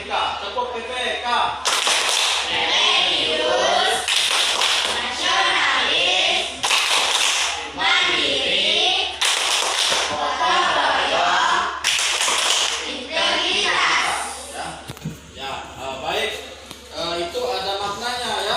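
A group claps the rhythmic PPK clap pattern in a classroom teacher-training session, with loud sharp bursts of clapping in quick repeated phrases and voices chanting or talking throughout.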